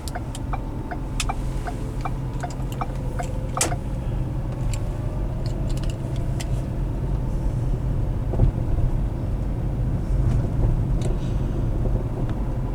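A 2010 Ford Fusion with about 201,000 miles idles while warming up, a steady low engine rumble with scattered ticking clicks over the top.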